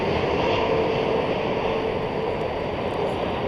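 Cargolux Boeing 747-8 freighter in 50th anniversary livery arriving at DFW airport at night, a steady loud roaring engine drone, broad and continuous throughout with no talk.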